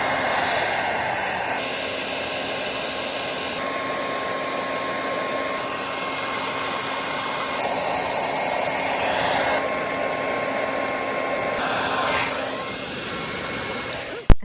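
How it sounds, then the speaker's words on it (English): Blow dryer running steadily outdoors to thaw a frozen water spot on a livestock watering setup for cows, chickens and ducks, a continuous loud whooshing hum with a faint steady tone, ending in a brief sharp click. "So I have brought out a blow dryer."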